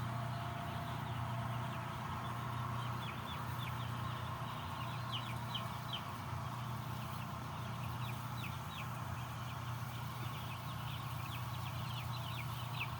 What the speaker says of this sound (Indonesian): ayam tetap bergerak, ada yang bergerak makan minum, ada yang tidur, ada yang berlarian